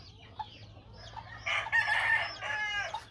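Roosters in a cockfighting pen crow loudly, with one long crow close by, followed by another crowing phrase and a few softer calls over a low background hum.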